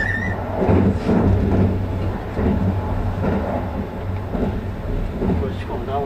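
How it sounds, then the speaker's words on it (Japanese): A Kintetsu Ise-Shima Liner train passes on the line near Shiohama, a loud rumbling rail sound with rhythmic clatter rising and falling, while voices talk over it. "伊勢島ライナーがやってきたわ。"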